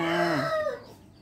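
A rooster crows once, loud and close, its drawn-out call falling away into quiet.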